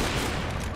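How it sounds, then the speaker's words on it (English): Pistol fire in a video game, a loud dense burst of gunshots packed into under a second, close and harsh, with no voices over it. "Why you gotta pull out the pistol on me, you little piss?"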